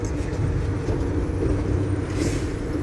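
A truck's engine rumbles steadily while the rig pulls out onto the road during tractor-trailer driver training, a loud, continuous low drone with faint hissing above it.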